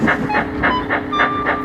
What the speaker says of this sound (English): And Emily puffed on with her train